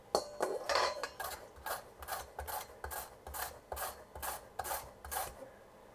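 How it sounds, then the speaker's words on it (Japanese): A carrot is pressed firmly down a grater for carrot râpé, a close, rhythmic rasping of about a dozen even strokes with brief pauses between them, ending in quiet. "人参の細さが一定にすりおろせるので、すごく綺麗になります"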